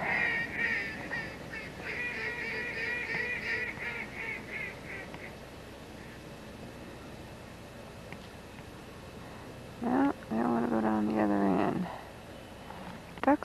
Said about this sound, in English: Guess that's what we're here for, is to film ducks flying around.